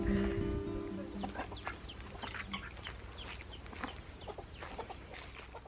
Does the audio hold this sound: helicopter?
no